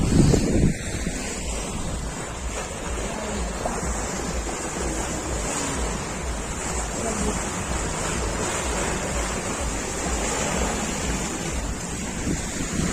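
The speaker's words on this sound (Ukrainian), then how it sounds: "дам вам послухати спеціально для вух шум моря" Steady Black Sea surf washes onto Langeron beach in Odesa, a continuous broadband roar with wind buffeting the microphone throughout.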